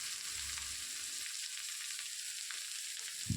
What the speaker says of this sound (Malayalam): ഇനി നമുക്ക് കടുക് ചേർത്ത് കൊടുക്കാം.